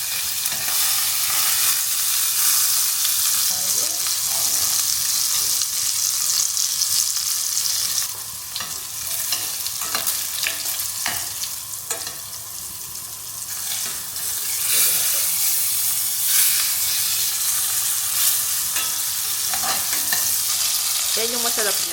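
Butter sizzles as it browns in a frying pan, a loud, dense hiss with crackles and spits that dips briefly midway, then carries on steadily, close up, with no clear speech.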